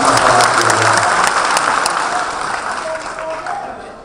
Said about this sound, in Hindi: जोरदार तालियों से उनका स्वागत किया गया